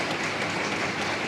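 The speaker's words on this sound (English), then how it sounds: "So, with a big round of applause, thank you very much." Steady, dense applause from a large conference audience at the opening of an international women's summit, broad and even throughout with no voices over it.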